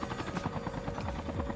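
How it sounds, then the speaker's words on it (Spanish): Helicopter in the battle royale mode of Call of Duty Mobile, a steady rhythmic rotor thump and engine drone at moderate level with no talk over it. "escucho a alguien en helicóptero. Aquí viene alguien"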